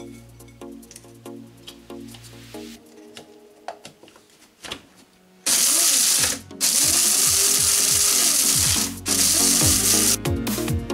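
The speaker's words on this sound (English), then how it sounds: "And now I'm gonna put them in the coffee blender." A coffee blender grinds dried spearmint stems cut into small pieces, a loud steady whirring roar that starts abruptly partway through and runs with brief dips after a quieter stretch of handling noise.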